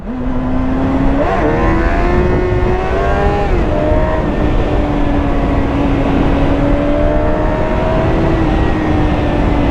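A 2008 Suzuki GSX-R 750 motorcycle engine heard while riding, a loud, continuous close drone whose pitch rises sharply, dips and then holds steady through gear changes.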